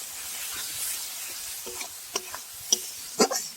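Spice paste of turmeric and cumin powder fried in oil in a pan while being stirred, a soft steady sizzle with scattered scraping clicks of the spoon that grow sharper and louder toward the end.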